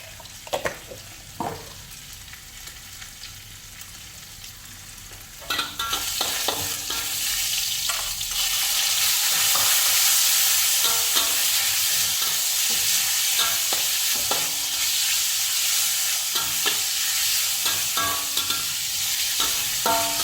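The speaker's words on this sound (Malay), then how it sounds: "dan kita goreng ini daging dulu" Meat frying in a pan, with ginger, while being stirred: a steady loud sizzle that thickens midway, broken by repeated scrapes and clatters of the stirring utensil, close up and with no talk.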